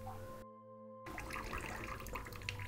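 Water runs steadily from a tap, a continuous close hiss that starts abruptly after a brief silent gap and keeps flowing to the end.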